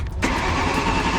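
Drift car engine idling rough and misfiring, a steady, uneven rumble close by with a short gap before it fills in.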